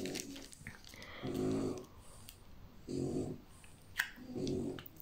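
Slow, rhythmic snoring, four soft rasping breaths a little over a second apart, close by in a quiet room.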